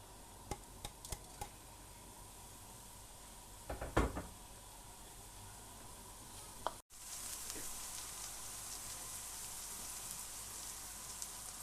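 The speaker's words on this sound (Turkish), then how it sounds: "E, soğanla yeşil biberi aynı anda pişiriyorum." Chopped onions and green peppers fry in a pan for Turkish menemen, a soft, steady sizzle with scattered clicks and a few utensil knocks near the start, growing slightly louder after a brief pause.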